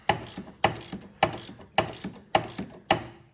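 A socket ratchet tightens a shock absorber nut on a Chrysler Crossfire front suspension, heard as six sharp clicking bursts at an even rhythm, each followed by a brief rapid pawl chatter, close and clear with no talk.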